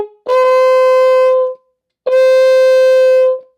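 Two sustained trumpet notes played with a plunger mute held closed, bright and close with strong, buzzy overtones, each held about a second and a half with a short gap between them.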